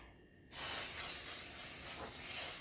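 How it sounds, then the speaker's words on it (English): A sudden burst of cooking spray hisses close by onto a baking tray, starting after a brief quiet moment and continuing steadily for a couple of seconds. "spray some cook and bake spray onto it"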